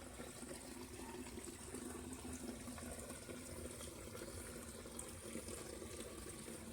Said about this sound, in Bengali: এদিকে জল পড়ছে, এইদিকে ধোয়া হচ্ছে।